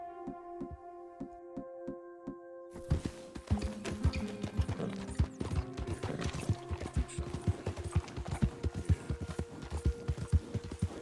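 Horse hooves clip-clop in Red Dead Redemption 2, a steady rhythmic stream of hoofbeats starting after a brief tonal game sound, close and fairly loud over a low hum.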